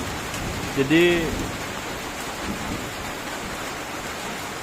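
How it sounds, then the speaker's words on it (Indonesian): Steady rain falling at night during a storm, an even hiss of drops on surfaces throughout, moderately loud, with a brief tonal sound near the start and a person saying a word. "Cuaca hari ini hujan, banyak glodok juga."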